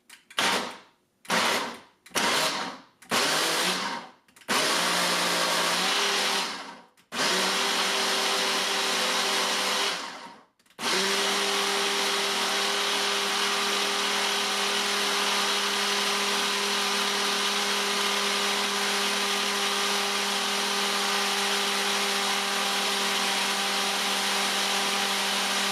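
A Ninja Kitchen System blender runs in several short bursts, its motor whirring loud and close with silent gaps between pulses, followed by one longer stretch and then a continuous steady run to the end.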